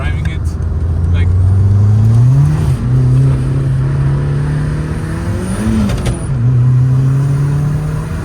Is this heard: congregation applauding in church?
no